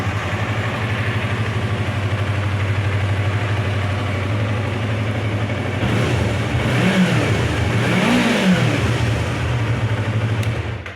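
A motorcycle with about 55,000 km on it and an R25-marked exhaust guard runs steadily at close range, then revs twice in rising and falling swells near the end, with no talk over it.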